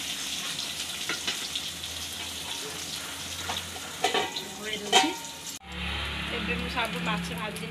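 Sankara fish frying in oil for an Odia-style curry, a steady close sizzle with bursts of crackle and stirring, the hiss shifting abruptly in tone partway through as faint voices murmur underneath.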